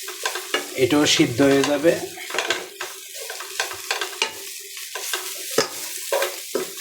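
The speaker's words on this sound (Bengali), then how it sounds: "আগে ঘি দিয়ে সুন্দর করে ভাজতে হবে" Grated carrots sizzle in ghee while a utensil scrapes and stirs them in the pan, giving repeated clinks and rustles. One voice speaks briefly over the frying.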